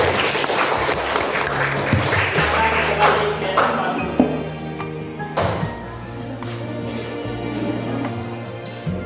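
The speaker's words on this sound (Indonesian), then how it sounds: "Kita aplaus untuk kelompok 1." Classroom applause for the first presentation group, a dense burst of clapping from a small group of students that thins out and fades after a few seconds, with a thump or two near the end.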